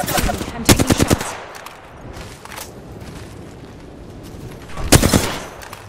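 Automatic gunfire in a shooter video game hits the player in two rapid loud bursts, one early and one near the end, with a low rumbling background between them.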